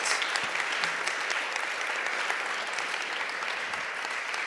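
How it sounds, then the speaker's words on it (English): Dense, steady audience applause for speakers at a conference session on the economy, holding at an even level throughout with no voices over it. "I think this was also already a big applause for our distinguished speakers here."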